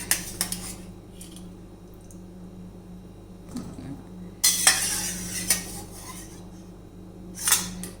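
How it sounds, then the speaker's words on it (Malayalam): Soft cooked grapes are scooped with a metal strainer ladle into a strainer, giving scattered clinks and wet scraping sounds over a quiet kitchen background. "നമുക്ക് ഈ ഗ്രേപ്സ് ഒരു അരിപ്പത്തവി കൊണ്ട് കോരി ഇങ്ങനെ ഒരു അരിപ്പയ്ക്കകത്തോട്ട് ഇട്ട് കൊടുക്കാം"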